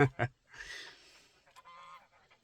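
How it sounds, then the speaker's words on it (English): Geese by a duck pond give a pair of sharp honks, followed by stretched, nasal honking calls of moderate loudness. Someone speaks briefly at the start. "Whatever, geese."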